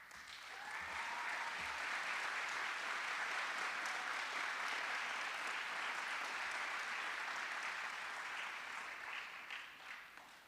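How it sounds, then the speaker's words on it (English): Sustained audience applause for faculty standing at a college stole ceremony, a dense wash of clapping from a large crowd that swells quickly, holds steady for several seconds, then begins to taper. "I invite our esteemed faculty to stand and receive a well-deserved round of applause."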